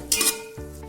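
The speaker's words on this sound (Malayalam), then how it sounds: "അതുവരെ ഒന്ന് ഇളക്കി കൊടുക്കാം." Chopped tomatoes being stirred in a pot while cooking for a Malabar prawn biryani, with a few quick metallic scrapes of a spoon against the pot, then a soft clink.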